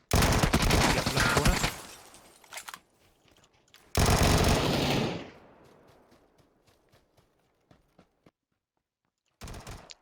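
Dense burst of gunfire from a PUBG match, a loud sustained volley for about two seconds, a second heavy burst a moment later that tails off into scattered faint shots, then a final short crack of fire.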